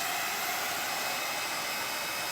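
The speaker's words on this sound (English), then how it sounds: "drying it with a heat gun" A heat gun blasts hot air over a decoupage crackle wall panel, a steady broadband hiss that holds at an even level throughout, close and unbroken, with no talking.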